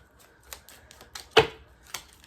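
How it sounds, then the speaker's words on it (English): A few quick crisp clicks and riffles of a tiny deck of cards being shuffled, with one louder flutter in the middle, close by and quiet. "Card to shuffle."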